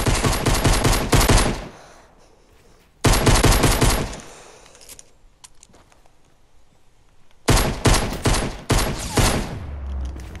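Pistol and assault rifle gunfire in a one-on-one video game match, three loud clusters of rapid shots separated by quieter gaps, with no talking over them.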